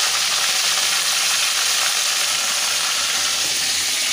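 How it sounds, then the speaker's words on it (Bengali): Fish frying in a pan, a loud, steady, dense sizzle and crackle of hot oil filling the whole stretch with no pauses and no voices. "এবার মাছ ভাজতে শুরু করে দিলাম।"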